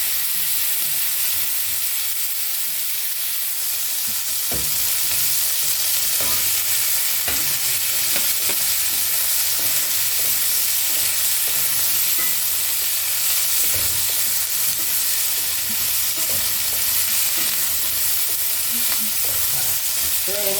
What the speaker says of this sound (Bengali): আলু ফুলকপিগুলো ভালো করে ভেজে আপনার দেখাচ্ছি